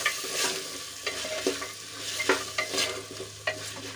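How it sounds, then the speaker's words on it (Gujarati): Potatoes and green peas sautéing in oil inside a pressure cooker, with soft sizzling and repeated light scrapes of a spoon stirring, close and fairly quiet with no talking. "બંને સરસ રીતે મિક્સ કરીને આપણે થોડી વાર સુધી સાંતળવા દઈશું."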